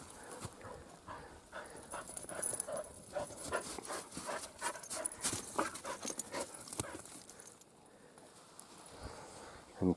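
Several excited dogs moving about nearby, with busy scrabbling and padding, bursts of panting and an occasional faint whimper, steady and close throughout.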